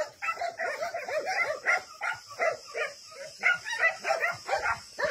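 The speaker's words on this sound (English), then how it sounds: "Don't bark so loud with a happy tail." A small senior dog at a shelter yips and whimpers in a quick, excited series of high barks, close by and fairly steady throughout.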